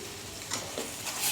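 Tomato masala for chicken gravy sautéing in a pan, a soft continuous sizzle with a few light stirring scrapes, close and fairly quiet, with no talking.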